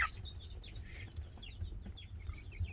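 Month-old chicks and young chickens making soft clucks and high peeping chirps, scattered and intermittent over a low background hum, faint and fairly close, without speech.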